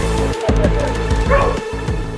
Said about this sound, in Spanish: un grupo de perros aparece corriendo directo hacia ellos